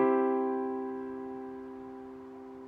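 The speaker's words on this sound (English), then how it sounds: "So for a major chord, this is what it will sound like." A sustained chord rings out with clear, stable tones, gradually fading over a few seconds with no voices.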